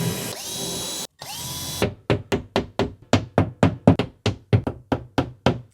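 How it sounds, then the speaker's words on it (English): A power drill whirs in two bursts, then a rapid series of sharp, regular knocking pulses as it bites into a wall drilling holes for wall anchors, close and loud with no talking. "We'll just drill one on the left"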